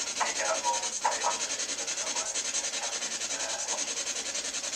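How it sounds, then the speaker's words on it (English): A walkie-talkie gives off continuous hissing static with faint crackles during a paranormal investigation at a pub, holding steady and fairly loud throughout with no voices. "That's the walkie-talkie making it sound."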